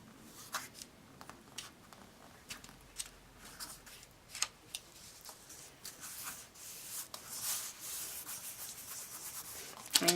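Paper being cut and trimmed for a mini album cover, close-up scratchy snips and rubbing strokes in an irregular rhythm, quiet and alone with no speech.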